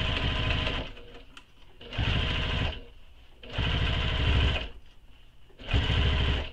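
A sewing machine stitching the side edge of a crossbody bag, running in four short bursts of fast, loud mechanical whirring separated by quiet pauses.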